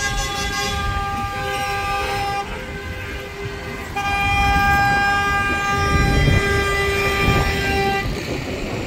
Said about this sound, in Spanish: todo el ruido de las bocinas de los autos, de los buses.